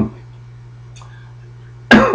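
A person's cough, caught from a child, bursts out once near the end as a single loud, close hack after a quiet stretch with low hum.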